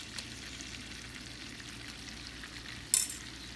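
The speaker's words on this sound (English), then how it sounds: "The butter is melting. Throwing my garlic." Garlic sizzling in melting butter in a pan, a soft, steady frying hiss with a sharp clatter of a utensil near the end and no talking.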